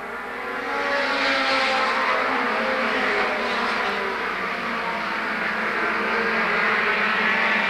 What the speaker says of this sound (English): Bob Fitzpatrick in the number 9 rides in 5th.